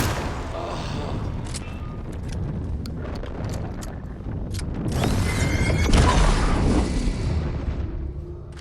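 Grenade blasts in the video game Alan Wake 2 give heavy, rumbling booms with debris and clatter, swelling louder midway and staying dense and continuous to the end.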